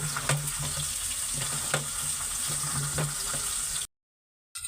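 A large fish head frying crisp in a pan gives off a dense, steady sizzle with occasional spatters and stirring knocks, close and unbroken until it cuts to silence near the end.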